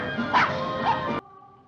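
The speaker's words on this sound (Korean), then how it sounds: "소워드는 땅 파는 강아지를 저지하고" A small dog barks a couple of sharp yips close by, nudged away from digging in a garden flower bed, with a low hum lingering after the barks stop.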